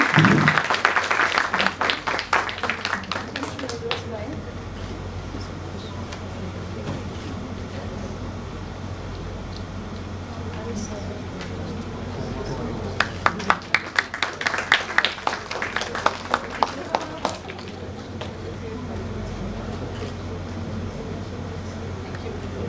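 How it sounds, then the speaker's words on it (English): A leadership conclave audience claps for a panelist in two short, scattered bursts of hand claps, one at the start and one in the middle, with a steady low hum in the room throughout. "So a big round of applause for ma'am to share her valuable insights."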